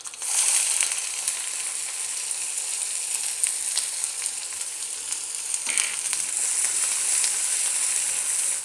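Onion frying in hot oil with mustard seeds and urad and chana dal, a loud, dense, continuous sizzle with faint crackles and a brief stirring scrape partway through.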